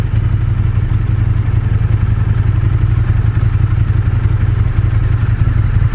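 A KTM 1290 Super Duke GT motorcycle engine drones loudly and steadily while being ridden, a constant deep rumble mixed with wind noise and no pauses.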